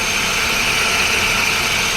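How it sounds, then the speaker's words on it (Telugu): A Chevrolet Beat LT car engine idles with a steady, even hum and a smooth mechanical whir, loud and close, with no voices over it. "మనకు ఇంజన్ బీడింగ్ వింటున్నారు కదా"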